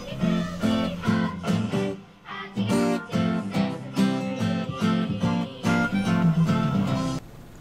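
An acoustic guitar strums chords from a TV theme song in a lesson setting, steady rhythmic downstrokes ringing close and clear with brief pauses between chord changes, no talking.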